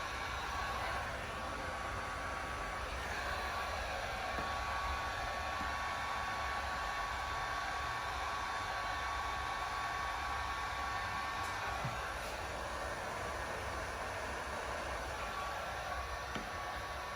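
A heat gun blows steadily while warming chrome delete vinyl trim on a 2015-or-later Tahoe, Yukon or Escalade window, producing a constant airy roar at close range with no pauses.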